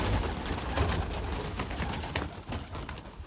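Pigeons cooing amid a busy pigeon market in Rampur, a dense crowd of birds giving a steady low murmur of coos with occasional flutters, fairly close and continuous throughout.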